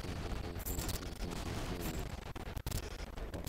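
Rapid, dense bursts of automatic gunfire from the game Swamp Attack, loud and continuous with brief gaps, crackling and booming without pause.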